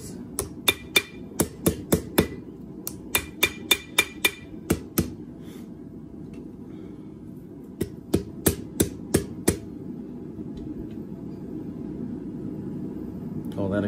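A hammer strikes hot metal while a paper towel holder is forged, ringing in quick regular blows in two bursts with a pause between, loud and close over a steady low roar.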